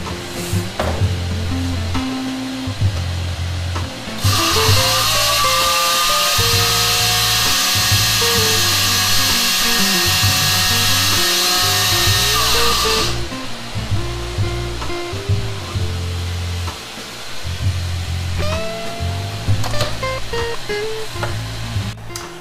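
A blender or food processor grinds peppercorns into a spice mix for a smoked-meat brine, a loud steady high whir running about eight seconds in the middle, with kitchen clatter and low background sound before and after.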